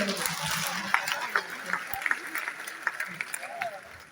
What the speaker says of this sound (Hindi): आइए एक बार अरुण जी के लिए और ताली बजाइए